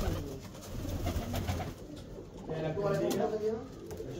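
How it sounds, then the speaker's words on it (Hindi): Pigeons cooing inside a large net at an Amroha pigeon-flying contest, soft low coos repeating under a steady outdoor background, with people talking nearby. "दोस्तों इतना बड़ा जाल है कबूतरों का पता ही नहीं चल रहा कि कबूतर है नहीं है जाल में"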